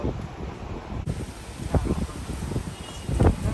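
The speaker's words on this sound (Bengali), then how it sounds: "হেভি জোরে হাওয়া দিচ্ছে" Strong gusty wind blows during a heavy downpour, a rough broadband rush with rustling and buffeting on the microphone, steady and fairly loud.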